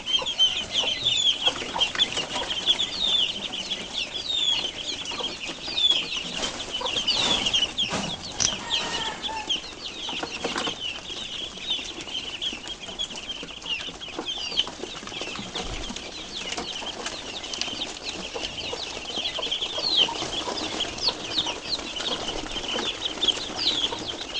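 Hungry ducklings in a small farm shed call and chatter continuously, a dense, busy flock of high peeping and clucking with occasional wing flutters, close and steady throughout.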